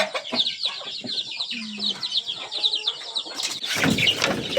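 Chickens and a rooster on a free-range farm cluck and squawk close by in a busy, overlapping chorus, with a burst of wing flapping and scuffling near the end.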